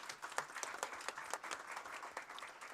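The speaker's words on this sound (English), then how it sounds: "Let's give them a rousing round of applause" An audience applauds graduating seniors at a Board of Education meeting, a faint, dense patter of many hands clapping steadily for a few seconds.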